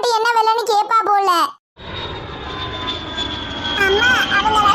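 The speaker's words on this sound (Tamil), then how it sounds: "அவங்க வர பிளைட் வந்திருச்சு" An airplane arriving at an airport in a Tamil cartoon comedy, a loud sustained jet engine roar with a high whine that follows a brief burst of cartoon speech and then runs steadily to the end.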